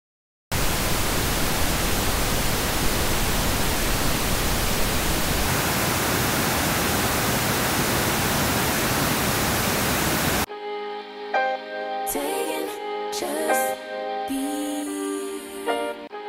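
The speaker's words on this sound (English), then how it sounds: "Here I've provided some pink noise to give you an idea how this frequency response kind of changes the tonality of the sound" A steady pink noise test signal played through Monolith M-OW3 headphones, a dense even hiss lasting about ten seconds, then cut off as music with a voice begins.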